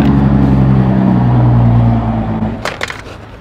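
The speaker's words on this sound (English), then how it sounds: "Pardon all the traffic noise." A dense roar of passing road traffic fills the first two seconds, then fades, leaving a few sharp cracks and knocks nearby.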